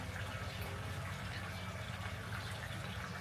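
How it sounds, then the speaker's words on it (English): Water poured into a fish tub beside a pond, a steady rushing, splashy fill sound that stays constant and fairly faint throughout. "Now I'm gonna have to add a little bit more water in here"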